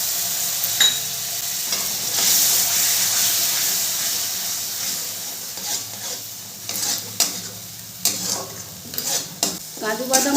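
Cashew nut paste sizzles in masala for a Bengali egg korma, first as a steady hissing fry and then as a busier run of scraping stirs and spoon knocks near the end.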